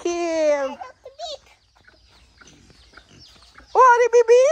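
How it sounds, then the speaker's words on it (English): Chickens and a baby chick on a mountain farm, with clucking and calling calls at the start and a loud burst of repeated clucks near the end, close by. "Oh, baby chicken also here."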